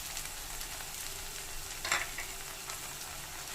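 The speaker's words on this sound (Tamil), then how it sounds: "காயெல்லாம் சேர்த்து நல்லா வதங்கட்டும்." Carrot and capsicum sauté in a pan for veg bread masala, giving a steady, soft sizzle with a brief stir or scrape partway through.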